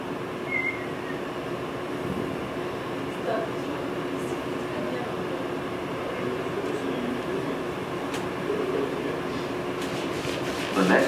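The CVG airport people mover train rumbles and hums steadily as it pulls away from the station, with rising mechanical whine and occasional clanks, fairly loud and continuous throughout.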